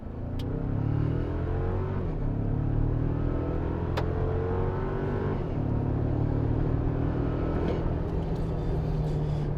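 A 2024 Toyota Tacoma TRD Off-Road pickup's turbocharged engine revs up and accelerates hard, its pitch climbing steadily over a constant loud rumble, with no voices.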